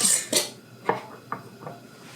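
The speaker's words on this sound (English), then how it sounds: "Clean your lids, tighten your rings on finger tight." Metal rings are screwed finger tight onto canning jar lids for pressure-canned southern greens with ham hocks, giving a few close, brief metallic scrapes and clicks spaced across a couple of seconds.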